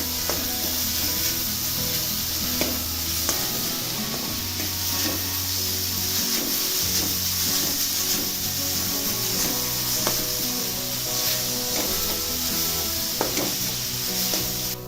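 Grated raw mango sizzles steadily in hot ghee over high heat while a spoon stirs it, with regular scraping strokes against the pan throughout.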